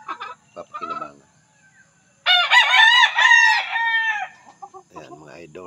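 A rooster crows loudly and close in a backyard, one long harmonic call lasting about two seconds, with bird clucks and scattered sounds before and after it.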